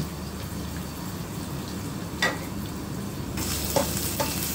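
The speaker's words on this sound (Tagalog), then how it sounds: "So, hayaan muna natin hanggang sa mag-brown yung ating bawang." Garlic sautéed for Indomie guisado gives a soft, steady sizzle, with a couple of brief scraping clicks from stirring and the frying growing slightly brighter toward the end; nobody speaks.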